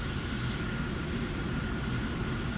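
A Douglas F3D-1 Skyknight jet in a flight-combat video game drones steadily on its approach to a runway, a loud, continuous engine roar with no pauses and no voices.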